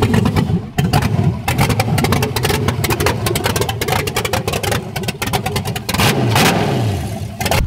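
A V8-swapped BMW E36 running a stock tune, before larger 1000cc injectors, revs hard with a loud, close engine note that rises and falls through repeated throttle blips and a sweeping climb near the end, with no talking over it.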